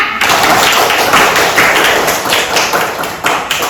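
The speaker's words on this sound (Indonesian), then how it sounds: "Beri tepuk tangan untuk kelompok Kamboja." Classroom of children clapping for a student group after its presentation, a dense, steady patter of many hands filling the room, loud and close, continuing without a break and without talk.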